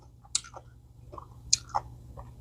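Close, crisp chewing of crunchy cabbage slaw with cranberries and dressing, a few separate bites and crunches spaced across a quiet moment, no talk.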